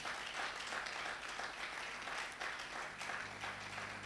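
Steady applause from an audience at a graduation ceremony for OML 58 HCDT CDP/Speedlink students, many hands clapping continuously for about four seconds without pause, fairly close and even in loudness.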